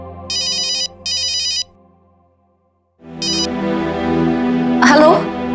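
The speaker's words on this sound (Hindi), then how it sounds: "तुम्हारा फोन" A mobile phone rings with short bursts of electronic ringtone, a pause, then another burst, indoors at home, with music and a voice following.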